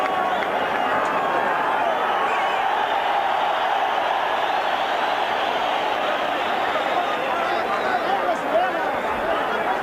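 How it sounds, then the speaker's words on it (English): Roar of a huge boxing crowd in Mexico City at a Julio César Chávez WBC super lightweight title fight, a dense, continuous wall of shouting and cheering that stays loud throughout, with a commentator's voice faintly underneath. "hearing the roar of this big crowd in Mexico City"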